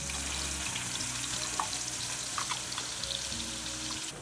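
Ground masala paste for Uttara Karnataka madike kaalu palya hitting hot oil in a pan, a steady loud sizzle and crackle with faint stirring, no voices.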